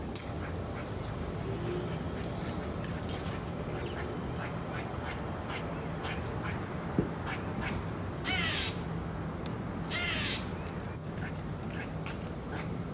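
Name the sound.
male birds crying during mating season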